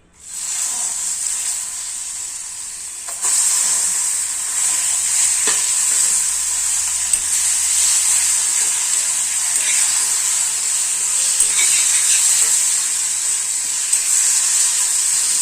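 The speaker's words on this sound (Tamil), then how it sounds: "நம்ம சூடு பண்ண அந்த எண்ணெயில் நம்ம வெட்டி வச்சுருக்கிற இந்த பீஸ் எல்லாம் கலந்துக்கலாம்" Cut pieces of goat spleen hit hot oil with a loud, steady sizzle that starts abruptly and then swells into a continuous bright hiss of frying, with faint stirring scrapes underneath and no talking.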